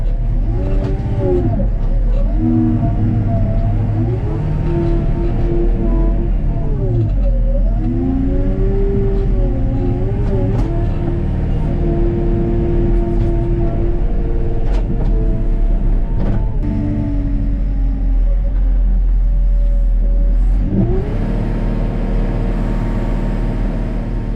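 A JCB Teleskid 3TS-8T skid steer's diesel engine runs loud and steady close by, its pitch dipping and rising repeatedly as the machine works and revs, with rattling hydraulics and clanks throughout.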